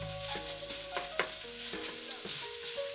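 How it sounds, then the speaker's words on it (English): Meat sizzling in a pan for spaghetti sauce while being stirred, steady frying hiss with scraping and clinking of the utensil, close and fairly loud; background music or tones run underneath, no talking. "Stir it around a little bit more."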